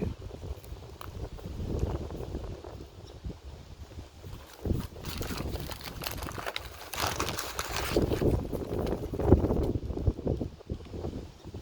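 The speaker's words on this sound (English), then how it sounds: "It's a little windy today." Gusty wind buffeting the microphone outdoors near a creek bird sanctuary, a continuous rumbling roar that rises and falls, with a few faint knocks in the background.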